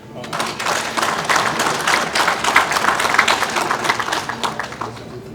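Dense, steady applause from an audience at an elders' gathering honouring the Plateau State governor, a broad wash of clapping sustained for several seconds with a voice faintly mixed in.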